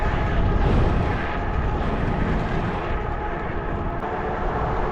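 A loud, steady engine roar of a small plane taking off from a small airport throughout, rumbling low and close, with no talking.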